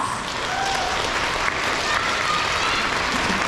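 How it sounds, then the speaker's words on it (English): Steady applause from an audience at an elementary school K-2 awards ceremony, honoring monthly ABC award winners; dense, sustained clapping fills the room without pause. "Let's give them a round of applause."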